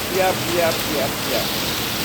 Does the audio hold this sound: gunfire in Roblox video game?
no